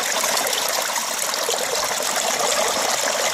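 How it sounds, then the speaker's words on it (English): Water rushing through a gold panning sluice in Ireland: a loud, constant, close-up gush with a trickling texture that never lets up. "A good flow on the sluice."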